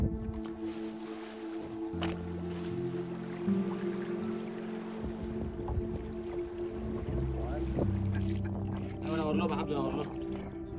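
A fishing boat out in the middle of the sea at night gives a steady low engine drone with water washing around it, while people talk quietly on board.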